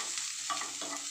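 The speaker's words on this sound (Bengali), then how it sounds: "লঙ্কাটা দিয়ে দিই, হ্যাঁ তাহলে একটু ভাজা ভাজা হবে," Chillies frying in a pan while cooking fish fried rice, a short burst of soft sizzling broken by a couple of quick stirring scrapes, close and without speech.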